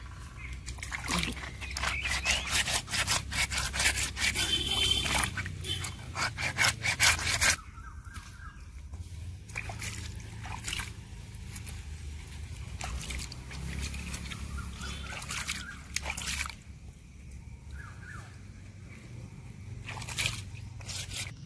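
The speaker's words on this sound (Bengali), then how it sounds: "মাছগুলো ঘষে ধুয়ে নিই।" Snakehead fish pieces scrubbed and washed by hand outdoors in a village, heard as rapid, rough rubbing strokes, loud and dense at first, then sparser rubs and splashy handling with faint background noise.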